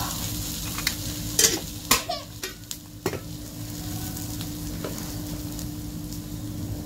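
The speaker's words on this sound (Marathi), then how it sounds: "आता तेल टाकते चौकून बेसनाचा धपाटा." A besan (gram flour) flatbread fries in hot oil in a home kitchen, giving a steady close sizzle throughout, with a few sharp utensil clinks and scrapes early on.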